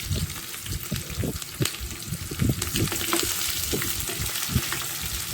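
Onions and curry leaves sizzling in an oil tempering with dried red chillies for buttermilk rasam: a dense, steady crackling fry with popping bursts, close and fairly loud, no voices.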